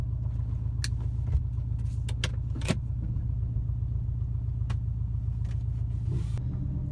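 A car drives along with a steady low engine rumble and road noise, faint and even throughout, with a few small rattles and clicks inside the cabin.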